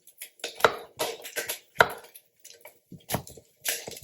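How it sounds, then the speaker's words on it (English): A kitchen knife slices button mushrooms on a cutting board, producing several separate crisp chops in an uneven rhythm with short pauses between cuts. The sound is close and fairly quiet, and no one speaks. "slice the mushrooms"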